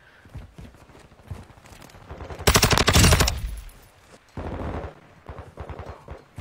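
Rapid automatic gunfire in a multiplayer shooter game, a loud close burst of fast repeated shots with a second shorter burst after it, amid quieter footsteps and game sounds.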